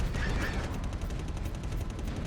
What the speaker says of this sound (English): I love the sound of that cannon going.